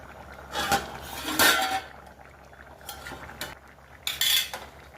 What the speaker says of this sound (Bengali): দেখি ঢাকাটা আমরা খুলি